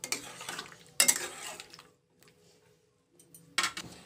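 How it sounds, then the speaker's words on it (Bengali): Lentils and bottle gourd are stirred in a pot in three short bursts of scraping and clinking, separated by a quiet pause with only a faint simmer. "নেড়ে দিচ্ছি।"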